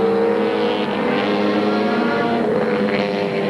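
A rear-engined 1983 AMSCAR race car, the Spirit of Queensland, roars steadily at high revs as it laps a wet New South Wales track. The engine note is loud and continuous, with no talking.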